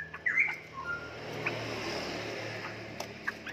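A straw-headed bulbul (cucak rowo), a caged songbird offered for sale, gives a few short bright chirps and whistled notes over a steady low background hum.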